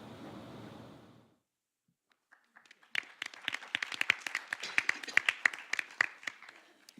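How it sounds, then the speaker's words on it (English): Conference audience applauding an opening panel, starting after a stretch of noise and a brief pause, then building into steady, moderately loud clapping from a crowd. "How about a round of applause for our opening panel?"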